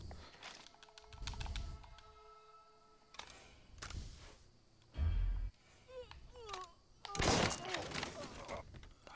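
Several loud gunshot blasts from the video game Mafia 3, spaced irregularly, interleaved with lighter clicks and electronic effects.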